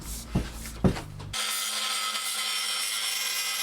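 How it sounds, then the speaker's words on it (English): Two short scrapes of metal being rubbed off a consumer unit, then a sudden steady, loud grinding rasp that carries on to the end. "I've just scraped the metal off there so that I can put this little brass ring on"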